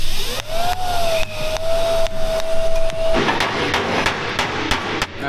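Welding on a Chevy Blazer body gives a loud continuous hiss and buzz with repeated sharp taps, and a rising whine runs through the first half before the crackle broadens.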